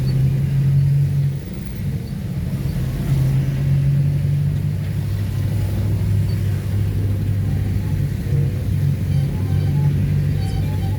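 A car driving along a road on a commute, its engine hum low and continuous from inside the vehicle, with steady road rumble and slight shifts in pitch as it moves.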